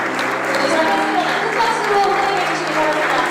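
An audience in a formal hall gives sustained, dense applause to welcome the presidents of Korea and Brazil, a loud even wash of clapping lasting throughout, with a voice speaking over it.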